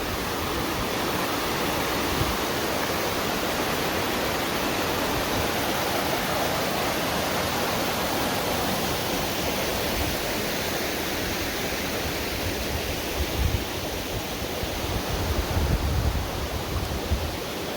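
Rushing water from a waterfall in Washington State, a continuous broad roar that stays steady and loud throughout, with no talking.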